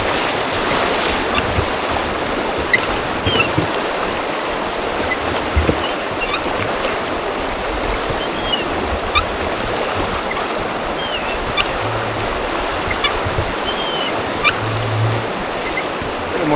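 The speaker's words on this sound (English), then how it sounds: "Now we're getting into some rocks, faster water." Fast river water rushes over rocks and boulders in a steady, loud, broadband roar, with occasional splashes and faint knocks from a nearby boat.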